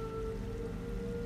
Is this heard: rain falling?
yes